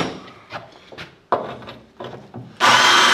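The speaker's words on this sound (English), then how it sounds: "Going to drill into the tile so we don't slip and wander." A drill bores into tile in a few short, gritty bursts with pauses between them. Near the end it breaks into sustained loud drilling.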